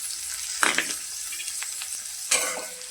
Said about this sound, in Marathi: हे पण चांगलं तेलामध्ये फ्राय करून घ्या